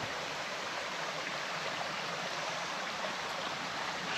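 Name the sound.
flowing cascading creek in a forest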